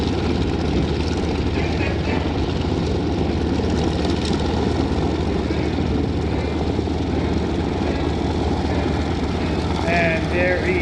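A propeller airplane rolls out after landing at the Greater Binghamton Airshow, its engine a steady, loud drone filling the whole stretch, with faint crowd and commentary noise mixed underneath.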